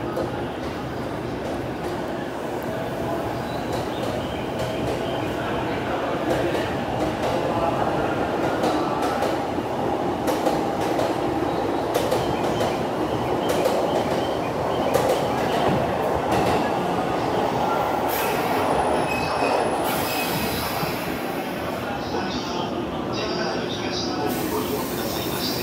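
A JR 185 series temporary limited express train runs past with a rolling rumble and rhythmic wheel clatter on the rails, swelling in the middle and then fading as the cars go by.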